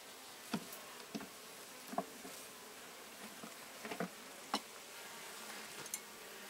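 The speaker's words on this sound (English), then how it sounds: "Yeah, I see bees in there with pollen." A faint, steady insect drone hangs in the background, broken by scattered soft taps and knocks; honey bees buzzing quietly around a hive, no talking.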